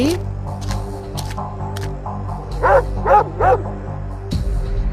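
A big cartoon dog gives three loud, close barks in quick succession, set against a droning musical background.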